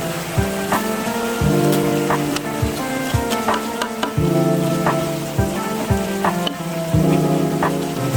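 Bitter melon stir-fried with fried dried shrimp sizzles steadily in a pan, broken by repeated sharp scrapes and knocks of a spatula stirring at irregular intervals.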